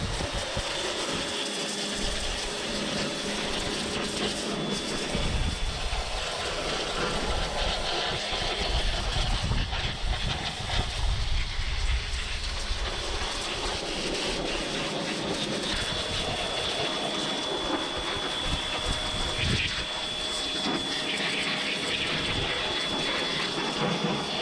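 A pressure washer sprays loud and close onto a Suzuki Vitara engine and transmission being degreased, a harsh continuous hiss and roar with shifting intensity and no talking.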